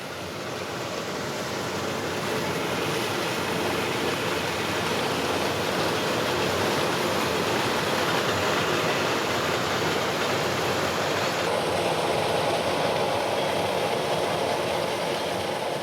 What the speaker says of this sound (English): It is the Cog Railway, a mountain railway powered by a unique steam locomotive